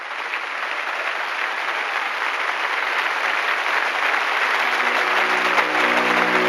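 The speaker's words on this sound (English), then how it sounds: "The clapping would go on for so long that finally bells were used to call for an end to the applause." Prolonged applause for Stalin: dense, steady clapping from a large crowd, sustained and even throughout, with a faint low tone emerging near the end.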